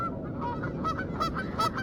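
Geese honk repeatedly in a loose chorus of nasal calls over a low steady rumble, the birds arriving on a still, heavily fogged night with lights on.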